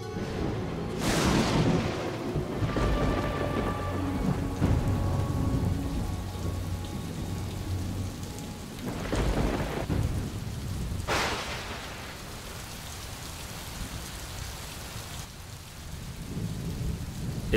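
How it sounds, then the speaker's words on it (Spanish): Heavy tropical rainforest downpour drums steadily throughout, with several loud thunder claps rolling through and fading, one near the start and others around the middle. "La humedad está siempre presente en forma de lluvias torrenciales, de tormentas, de brumas o de nieblas."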